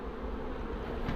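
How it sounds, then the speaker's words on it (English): A transferred swarm of honey bees fills the air with a thick, steady buzz, loud and near, constant throughout with no speech. "There's a good amount of bees in there"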